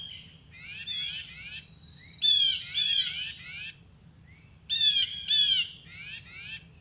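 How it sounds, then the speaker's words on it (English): Birds outside a tiny cabin on a spring morning call loudly in fast bursts of bright, sweeping squawks and chirps. Short pauses separate the bursts over a low, steady background rumble. Several birds sound close by, with no voices. "These birds are going crazy."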